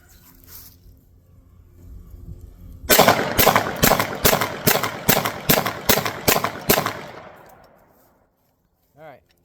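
A SAR 9T pistol fires ten rounds as fast as possible at close range, the sharp evenly spaced shots ringing out over a quiet outdoor range before fading, and a brief voice follows at the end.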